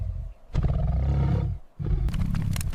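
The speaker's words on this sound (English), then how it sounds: "the creature emits its legendary sawing roar aloud" An African leopard gives a deep, rasping sawing roar in two long heaves separated by a brief pause, loud and close.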